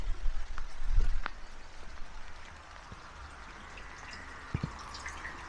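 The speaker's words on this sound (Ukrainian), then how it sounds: "у нас довгоочікуваний дощик врешті" Scattered drips of autumn rain tap irregularly against surfaces outdoors in a garden by a pond, sparse and fairly quiet, with a soft background wash.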